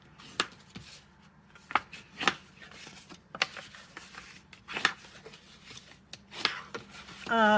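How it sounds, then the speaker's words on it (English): Scored paper folded and burnished along its score lines for a gilded autumn box, giving a series of sharp, close rubbing and scraping strokes at an irregular rhythm with quiet pauses between. "I'm going to fold and burnish all of my score lines."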